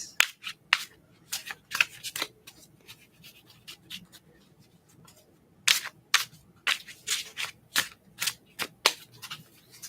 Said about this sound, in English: wait there patiently while I shuffle the cards